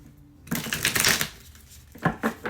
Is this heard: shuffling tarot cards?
yes